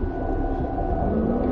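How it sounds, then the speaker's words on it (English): Low, droning whale-like calls from the eerie intro of the video game Forbidden Siren sit in a steady, dense wash of white noise that continues unbroken throughout. "Some white noise, some ASMR whale noises of Siren."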